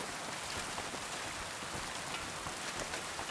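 Summer rain falls steadily in the video game Kingdom Come Deliverance 2, a soft, even patter of drops on surfaces with no voices over it.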